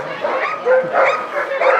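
Excited Alaskan Husky sled dogs yip, whine and bark in short repeated bursts close by, the eager vocalizations rising and falling over a couple of seconds.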